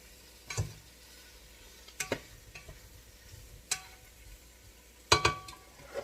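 A spoon stirring a pot of beef stew, giving several separate scraping clinks and wet stirs with quiet gaps between them, close by and fairly soft.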